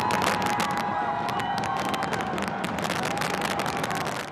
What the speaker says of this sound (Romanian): A fost unul dintre cele mai impresionante spectacole cu focuri de artificii care vreodată a avut loc la Hong Kong